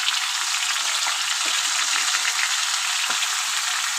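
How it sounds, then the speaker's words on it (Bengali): Ground spice paste goes into a pan of frying prawns for a Bengali curry, setting off a steady, loud, close sizzle that runs throughout with faint stirring scrapes and no voices. "চিংড়ি মাছটা দিয়ে দিয়েছি। এখন আমি বেটে রাখা মশলাটাও দিয়ে দেবো।"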